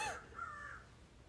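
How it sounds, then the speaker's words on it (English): A bird calls outdoors, likely a crow: one short, fairly loud caw at the start, then a longer, fainter call trailing off, with no voices. "bird really needs to shut up"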